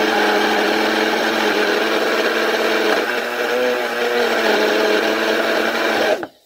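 An electric grinder whirs continuously while breaking down rosemary and salt, a steady buzzing rattle of herbs and grains inside the jar that holds at one level before stopping abruptly at the end.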